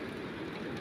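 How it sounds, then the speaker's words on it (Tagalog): Heavy, gusting rain falling steadily, a dense continuous hiss and patter with no break, moderately loud and without voices. "Pabugso-bugso ang ulan dito, pero malakas."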